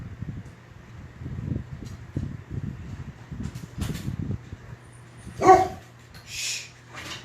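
A dog barks in a home: a series of soft, muffled barks and whimpers at first, then a sharper, louder bark and a yip near the end, set against a low steady background hum.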